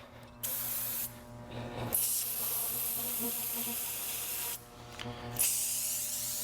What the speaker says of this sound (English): So I'm just gonna spray her down.